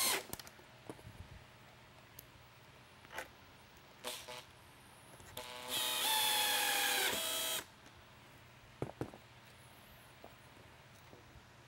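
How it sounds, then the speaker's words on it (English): A powered driver briefly whirs for about two seconds while mount screws go into a SoundOff Pinnacle mini LED lightbar, loud and close, amid scattered clicks and handling noises in an otherwise quiet room. "drop in the remaining 2 center mount screws"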